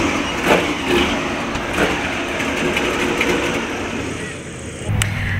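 The two engines of an Everglades airboat give a loud, steady roar that fills the whole stretch, a constant droning rumble with no break, as if heard from close by.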